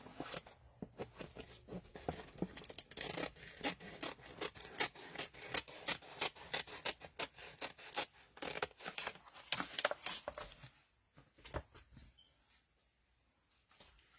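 Paper is trimmed for a file folder folio with repeated scissor snips, a quick close rhythm of crisp cuts and rubbing paper that runs steadily before fading to near quiet at the end.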